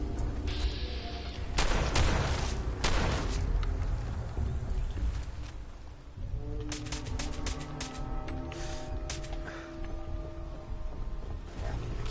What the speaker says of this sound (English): I don't care how many shotgun shells I waste on bugs